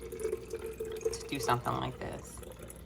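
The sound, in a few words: pouring homemade rosemary water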